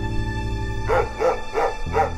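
Guard dogs bark at a high-security Russian prison, four sharp evenly spaced barks rising over a steady mechanical hum, fairly close and clear.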